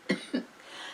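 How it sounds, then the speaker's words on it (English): Two quick, dry coughs from one adult, close and brief, followed by quiet room tone. "A little cough."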